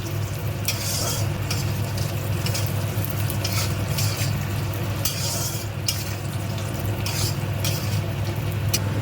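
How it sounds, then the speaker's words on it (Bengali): Cashews, raisins, grated coconut and peanuts frying in white oil, a constant close sizzle with repeated scraping bursts of a spatula stirring the pan, no talking. "কয়েকটা নারকেল কুচি, তারপর এগুলোকে নেড়ে ভেজে নেব যতক্ষণ কালার চেঞ্জ হবে"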